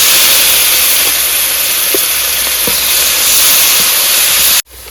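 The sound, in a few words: chopped onion, ginger and garlic added to hot oil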